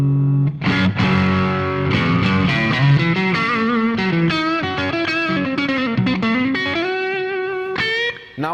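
Heavily overdriven electric guitar through a BOSS OD-200 Hybrid Overdrive with a Blues Driver stacked in parallel plays a sustained, gritty melodic line with saturated, compressed tone, loud and alone without talk.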